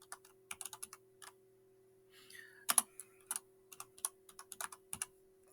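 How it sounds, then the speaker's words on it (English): Typing on a computer keyboard, a quick series of light plastic key clicks in short bursts, close and clear over a faint steady hum. "I'm going to type Social Studies."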